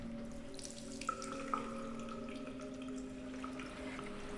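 In the video game Loretta, water runs from a sink tap into a glass, a soft, continuous stream with a couple of light clinks, heard faintly over a quiet tonal background.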